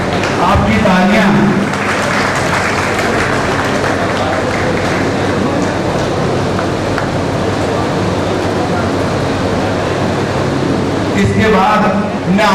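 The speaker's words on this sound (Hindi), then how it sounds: "आपकी तालियां" Sustained applause from an audience at a community felicitation ceremony honouring seniors, loud dense clapping holding steady for several seconds with no voice over it.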